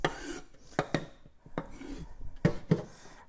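A knife blade scrapes chopped celery off a cutting board in a series of short, close rasping strokes, some sharper than others, with no talk.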